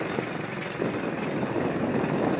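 A small 45cc Kawasaki engine running steadily, giving a close, loud, even buzzing drone with no breaks across the short stretch.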